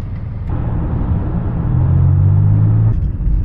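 A vehicle on the road after a brake repair rolls along in a steady low rumble, engine and road noise holding close and loud for a few seconds with no speech.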